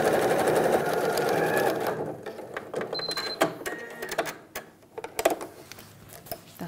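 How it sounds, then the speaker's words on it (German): A sewing machine stitches a seam on fabric for a bread basket, running in a steady, dense whir for about two seconds before stopping. Scattered clicks and handling taps follow. "Aber jetzt nähen wir erstmal"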